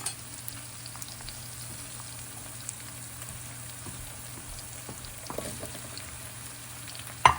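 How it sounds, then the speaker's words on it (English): Tomatoes hitting a hot frying pan for aloo phalee give a steady, moderate sizzle and crackle with occasional stirring clinks, ending in a brief louder scrape. "I'm going to add the tomatoes"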